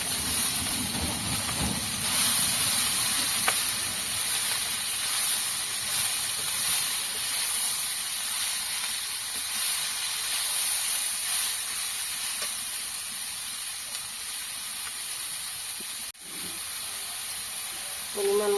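Spinach hits a hot pan for a sour spinach dish, giving a steady, close sizzling hiss that holds evenly for the whole stretch with a few faint clinks.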